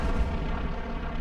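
Allied artillery fire in Hell Let Loose on the Utah map, a heavy, sustained low rumble of shelling, loud and dense throughout the short stretch, with no voices.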